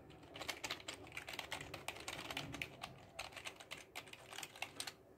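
Someone types fast on a USB/PS2 keypad wired to an Arduino, producing a rapid, uneven run of close, quiet key clicks that continues for several seconds.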